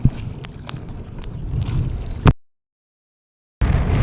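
Strong wind blows across a tidal creek, a loud, steady rumble buffeting the microphone, cut by a sudden stretch of silence before the gusting returns.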